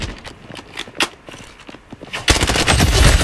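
Bursts of AK rifle fire from the shooter game Blood Strike, scattered shots early then a loud, dense sustained volley near the end, with no talking.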